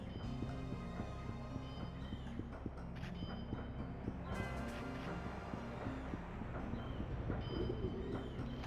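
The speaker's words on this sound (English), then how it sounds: "Pigeons!" Pigeons cooing in the Shenmue video game, a steady low murmur of coos with faint clip-clop and ambient game noise running continuously in the background.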